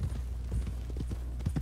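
Horse hooves clip-clopping in the open-world western game Red Dead Redemption 2, an irregular run of near, dull thuds over a steady low rumble, with no voices.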